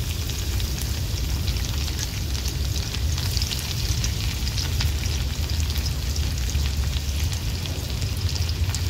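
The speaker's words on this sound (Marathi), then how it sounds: "इथे मी लसणाच्या पाकळ्या 10-15 ठेचून घेतल्यात, त्या मी तेलात घालून घेते।" Steady, dense sizzling of crushed garlic cloves frying in hot oil, constant and close with no talk.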